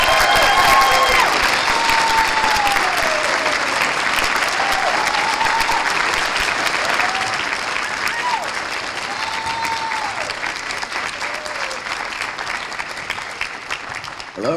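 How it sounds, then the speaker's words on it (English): At a celebration breakfast, a roomful of guests gives sustained applause for three neighborhood speakers. The clapping is loud at first, then gradually softens. Brief whistles and cheers rise above it. "Please give them like a big round of applause."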